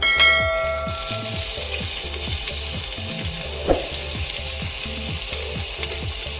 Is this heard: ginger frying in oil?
yes